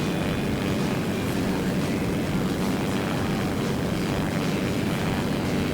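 Airplane engine from the flight game SimplePlanes, a loud steady propeller drone that holds without a break throughout, close and constant with no speech over it.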